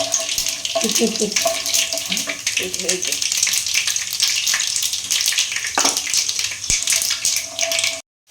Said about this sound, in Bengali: কারি পাতাটা তো তোমার অবস্থা খারাপ করে দিল, আমেরিকার বোমের মতো ফুটছে।